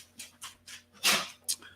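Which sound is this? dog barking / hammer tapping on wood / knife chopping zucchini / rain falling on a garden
dog barking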